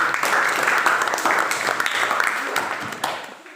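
A school class of children clapping their hands together in a classroom, a dense, continuous patter of many hands that fades toward the end, with faint voices mixed in.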